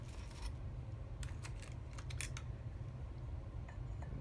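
A stiff blade slicing through polymer clay tiles, a few crisp short cutting clicks bunched in the middle with fainter ones before and after, close and quiet with no talking.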